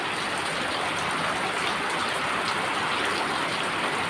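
Steady outdoor rain falls evenly as a dense, continuous hiss with no breaks, close and moderately loud around garden plants where turtles play.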